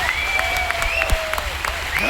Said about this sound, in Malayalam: ശക്തമായ കൈയടി അദ്ദേഹത്തിന്റെ ചെവിയിലേക്ക് എത്തണം